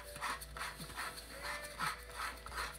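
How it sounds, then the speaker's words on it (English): Whole nutmeg being ground in a hand grinder, a soft repeated rasping scrape in a steady back-and-forth rhythm, close and fairly quiet. "So this is just the nutmeg that's going in now. And it's in the grinder, so it's just grinding it."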